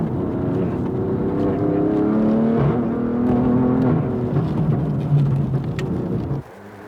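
A 600 hp front-engine, rear-drive BMW M4 weighing 1576 kg accelerates hard on a mountain pass, a loud sustained engine roar rising in pitch before cutting off abruptly near the end.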